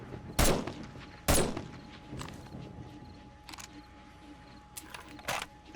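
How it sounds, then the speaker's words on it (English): Pistol gunfire in the video game 7 Days to Die during a zombie horde fight: two sharp, loud shots close together early on, then scattered fainter shots and softer thuds over low background noise. "we can switch to pistols and take them out a whole lot easier"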